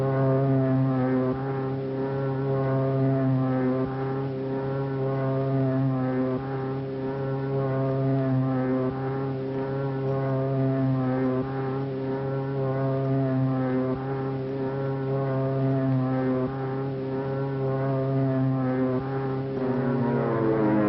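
A propeller aircraft taking off, heard as a loud, steady multi-engine drone that holds constant and thick for the whole stretch, slightly muffled and rising a little toward the end.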